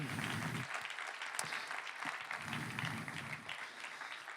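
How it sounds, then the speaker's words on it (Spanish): A church congregation applauds strongly during a sermon, a dense wash of clapping with a few sharp individual claps standing out and low rumbling crowd noise underneath, steady for the whole stretch. "Dale fuerte el aplauso a Él."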